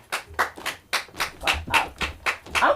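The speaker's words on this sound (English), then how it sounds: "Let's start clapping for our next comedian coming to the stage" Audience at a Wednesday open mic comedy night claps for the next comedian taking the stage, a steady run of close, crisp hand claps in irregular bursts filling the room, with no talking over it.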